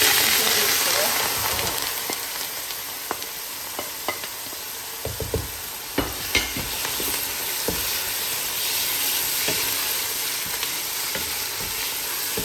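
Chopped garden egg frying with sliced onions in a pan for an eggplant sauce, a steady sizzle broken by scattered clacks of a stirring spoon.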